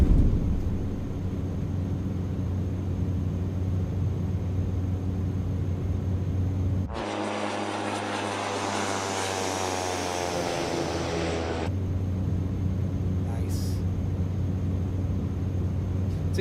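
A Blacksquare Cessna Caravan turboprop flies past in a flight simulator game: a steady engine drone swells into a louder, brighter roar for about five seconds, then settles back to the even hum.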